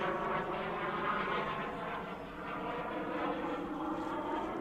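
Freewing 64mm electric ducted-fan F-14 Tomcat RC jet on its maiden flight, a steady whooshing fan roar that dips briefly then surges again, close and continuous, with no talk.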